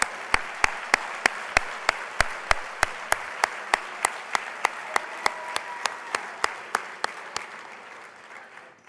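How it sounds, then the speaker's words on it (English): Banquet guests at a veterans' honors award dinner applaud as honorees take their seats, with a steady, evenly spaced run of sharp claps standing out over a softer bed of clapping that gradually quiets. "Give them a round of applause as they take their seats"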